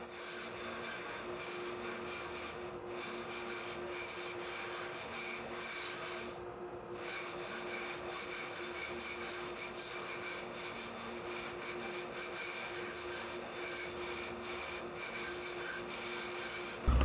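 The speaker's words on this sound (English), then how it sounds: "So just purely for the purpose of keeping this quieter while hollowing this, I'm not gonna cut the mouth yet." Steady, continuous rubbing and scraping of a wooden frog rasp percussion instrument being hollowed out by hand, a close, even rasping texture that runs nearly unbroken for the full length with one brief pause.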